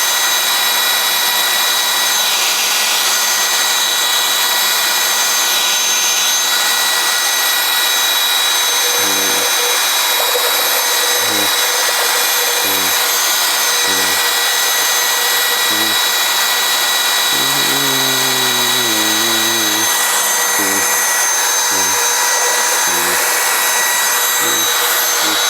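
Paint for a budget chameleon paint job being mixed with a power tool, a loud continuous motor whine running throughout with a regular series of low knocks and a brief rattling burst partway through.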